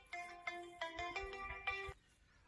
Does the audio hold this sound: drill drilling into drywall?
no